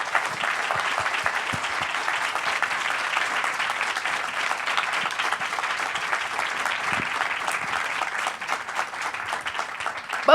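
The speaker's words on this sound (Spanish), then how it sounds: "Les pido un aplauso para este suceso." An audience applauds at a Mexican event on the National Reading Program, dense even clapping from a crowd sustained for about ten seconds, moderately loud and unbroken.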